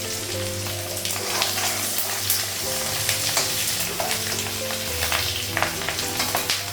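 An egg fries in a hot pan with a dense, continuous sizzle and crackle, loud and close throughout with no voices.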